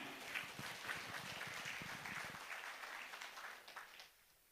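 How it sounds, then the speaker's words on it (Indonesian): Audience applause at an Indonesian motivational business seminar: steady, fairly distant clapping that sustains for several seconds, then tapers off. "berikan sekali aplaus yang meriah untuk Bapak Ibu semuanya"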